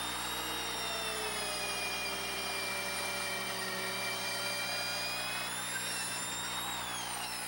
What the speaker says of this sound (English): I'm drilling holes through the studs to run the cable through.